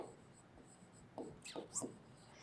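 Writing words on a classroom board during a class 1 social studies lesson: a few short, close scratchy marker strokes in quick succession, with faint speech in the background.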